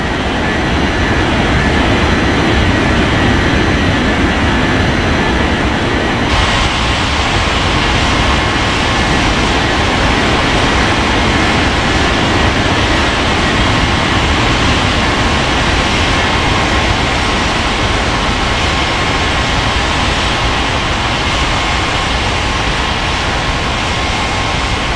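An airliner takes off from runway 20 right at Bengaluru airport, a loud, steady broadband jet roar that continues throughout and grows brighter and stronger after the first few seconds.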